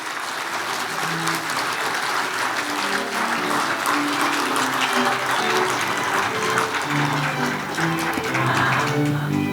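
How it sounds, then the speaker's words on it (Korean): Sustained applause fills the hall at a Korean award ceremony, steady and loud throughout, with scattered claps and some background tones from the room but no speech over it. "큰 환호 보내주셔도 됩니다."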